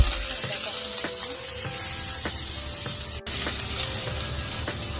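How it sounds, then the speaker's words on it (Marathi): Finely chopped onions and curry leaves fry in hot oil, a steady close sizzle that holds evenly throughout with faint stirring clicks. "कांदा तेलामध्ये व्यवस्थित भाजून घ्यायचं आहे गोल्डन ब्राऊन होईपर्यंत"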